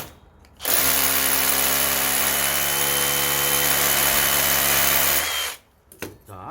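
Power drill driving an anchor into a window frame during a sash replacement, one loud sustained whine of about five seconds that starts and stops abruptly, close by.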